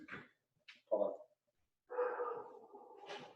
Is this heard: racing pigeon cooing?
no